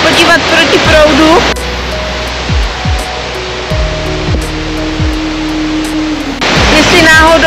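A mountain river in Bulgaria's Stará planina rushing in a steady broadband roar, loud and close, with someone speaking over it at the start and end.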